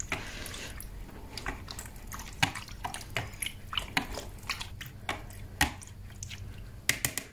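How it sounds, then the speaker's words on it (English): Small drops of tea dye reinker fall and are stirred with the end of a brush, giving a run of close, light drips and taps at irregular intervals. "one drop of my tea dye reinker."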